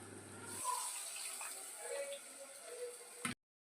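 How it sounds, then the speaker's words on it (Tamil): Tamarind water is poured into a pan of Chennai-style fish curry: a steady, faint splashing pour lasting a few seconds, then it stops abruptly. "இப்போ இதில் புளி தண்ணி சேர்த்துக்கலாம்"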